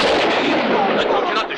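A gunshot in a western film cracks out loud and close, followed by a long, sharp, echoing ring that fills the whole short clip.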